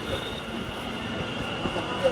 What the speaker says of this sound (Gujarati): આપણી ટ્રેન આવી ગઈ છે મેટ્રો.